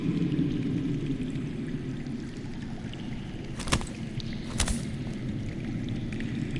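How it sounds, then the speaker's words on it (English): Underground water flowing in the Telltale Game of Thrones video game: a low, steady rushing wash that is faint and continuous throughout, broken by two brief sharp clicks near the middle. "That's water. I hear water. From underground."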